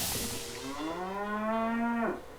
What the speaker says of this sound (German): Da sind Kühe.